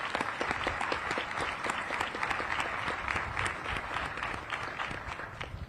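An outdoor audience at an Army change-of-command ceremony gives the band a sustained round of applause, dense clapping holding steady throughout.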